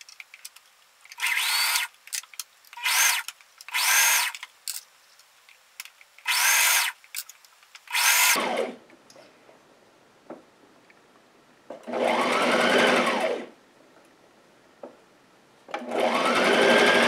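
A sewing machine runs a narrow zigzag stitch on dress fabric in repeated short bursts, each a steady buzzing run of a second or so with brief pauses between, followed by two longer, fuller bursts near the end.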